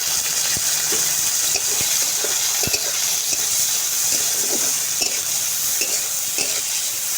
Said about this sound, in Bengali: পেঁয়াজটাকে লালচে কালার হয়ে আসা পর্যন্ত হালকা হালকা করে ভাজব